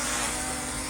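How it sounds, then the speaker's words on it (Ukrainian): A small quadcopter drone flies in poor weather, giving off a steady, fairly loud whirring buzz of spinning rotors that holds unchanged for a brief moment. "Оцей от дрон."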